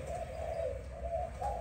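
Malaysian spotted dove cooing in a steady, repeated pattern of soft rolling coos, fairly close, with low rumbling background noise and no voices.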